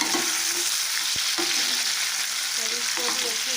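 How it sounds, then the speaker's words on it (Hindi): Chopped tomatoes fry in a pan with browned onion, garlic and ginger, a steady close sizzle with occasional stirring scrapes and a soft knock of the spoon. "अब इसको भी अच्छी तरह भून लेंगे"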